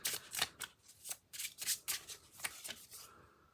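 Tarot cards being shuffled by hand, a quick run of crisp riffling and flicking bursts in an uneven rhythm, close and fairly quiet, with no talking.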